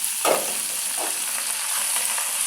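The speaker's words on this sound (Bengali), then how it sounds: "এটাকে এখন নাড়াচাড়া করব।" Boiled shredded cabbage stirred and frying in a pan: a steady close sizzle with a few scraping stirs near the start and around one second, no talk.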